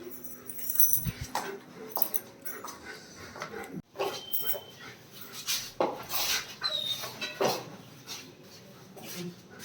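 A pet dog named Tyson whimpers and cries in repeated short bursts at home, with clattering and household noise around it and some people talking nearby.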